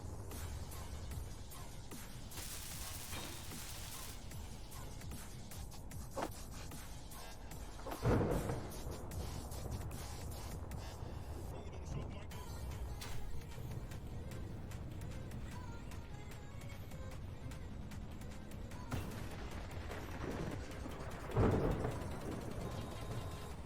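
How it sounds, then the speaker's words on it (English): A thunderstorm with steady rain and rumbling thunder, with two louder thunder cracks standing out partway through and at the end, over a constant wash of rainfall and faint mechanical clicking. "Oh, it's a thunderstorm."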